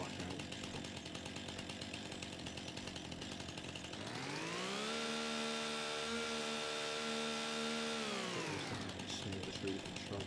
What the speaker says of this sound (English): Get the chainsaw back out.